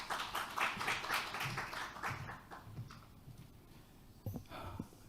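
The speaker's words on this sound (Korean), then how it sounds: "박수로 맞이해 주시기 바랍니다." Audience applause in a conference hall welcoming a speaker to a UN accession 30th anniversary academic conference, a dense clapping patter that is fairly faint and thins out toward the end.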